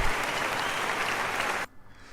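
A crowd at a season finale event applauds in a dense, even burst of clapping lasting under two seconds before cutting off to near quiet.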